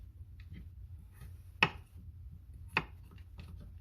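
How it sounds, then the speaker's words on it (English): A knife cuts through a potato while slicing and cubing it on a board. Two sharp, quiet chops stand apart over a faint, hushed room background. "slice the potato down the middle. And you could just cube this as big, as small as you want"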